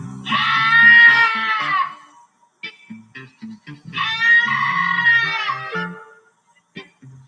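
A video game creature lets out two long, harsh, strained screams, each about two seconds, separated by a short gap with scattered clicks and small noises, loud and close.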